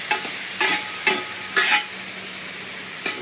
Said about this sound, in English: So now that that's all in there, I'm gonna stir it up a little bit.